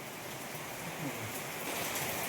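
Steady rain falling outdoors around a village house, a continuous soft wash of noise with no distinct drops standing out.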